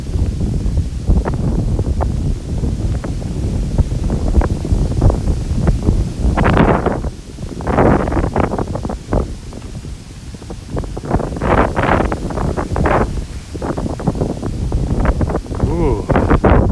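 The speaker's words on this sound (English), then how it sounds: "It's gonna be windy once we get out of this area." Steady wind roars and buffets the microphone outdoors on a Tokyo street, with leaves rustling through it and faint voices now and then.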